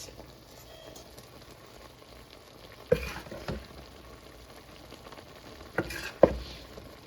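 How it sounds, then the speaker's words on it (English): Onions go into a pan of sizzling Jamaican-style curry chicken, giving a soft frying hiss under two louder bursts of clattering or stirring around the third and sixth seconds. "And then I'm going to put in my onions."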